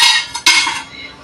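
A metal ring is lowered into a pot for preheating with a loud, close metallic clatter. Two quick clanks land almost together, then ring and fade away.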